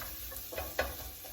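A spoon or spatula stirs chicken curry in a pan, giving a few soft scraping strokes with a faint sizzle underneath, close by and quiet.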